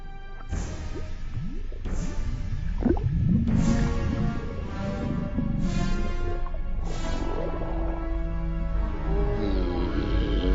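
Cartoon sound effects of a stomach rumbling as radiated candy is digested, low gurgling and squelching rumbles with several sharp swooshing hits and rising squeaks, busy and moderately loud.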